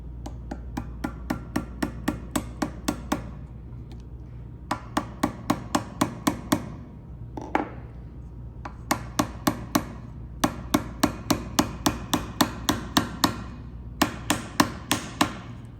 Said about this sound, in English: I'm gonna use the 2mm dowel to tap that down a little bit.